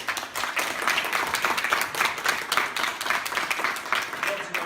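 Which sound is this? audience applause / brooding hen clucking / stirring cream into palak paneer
audience applause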